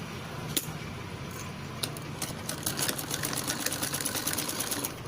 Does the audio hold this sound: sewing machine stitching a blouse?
yes